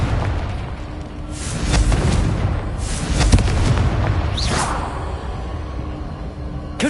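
A Confringo blasting spell explodes in Hogwarts Legacy, with loud, sustained booming rumble and swooshing bursts filling the whole stretch without pause.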